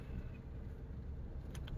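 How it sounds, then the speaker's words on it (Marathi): Heavy road traffic in Mumbai, a steady low rumble of car engines around a waiting vehicle, with faint higher clinks near the end and no speech. "खूप ट्रॅफिक."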